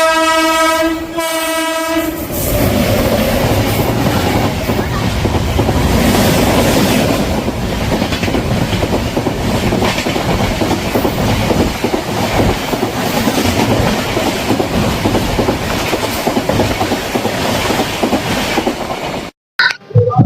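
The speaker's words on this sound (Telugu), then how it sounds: "సో ఇప్పుడు ట్రైన్ స్టార్ట్ అవుతుంది కొంచెం సేపట్లో" A passenger train bound for Arunachalam sounds a loud harmonic horn blast for about two seconds, then rolls on with a steady, close, continuous rumble and rattle of wheels on rails that lasts to the end.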